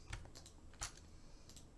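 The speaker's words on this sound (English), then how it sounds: "you're going to press Alt-Shift and then left-click right over here to anchor" Computer keyboard keys and mouse buttons clicked while working in the Unity editor, a few quick, light taps spaced irregularly over a quiet background, close and soft.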